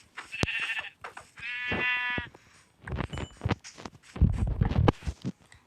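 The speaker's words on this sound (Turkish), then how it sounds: "Bak koyuncuk seni kesmem lazım." Two clear Minecraft sheep bleats, one short and one longer and wavering, followed by soft thuds and shuffling steps.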